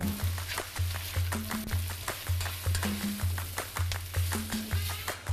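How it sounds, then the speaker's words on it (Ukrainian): Onions and cut eggplant stirred in a frying pan, with a steady rhythmic scraping of the utensil on the pan at close range under a soft, continuous sizzle. "додаємо сюди порізані баклажани, все це перемішуємо і е, продовжуємо обсмажувати"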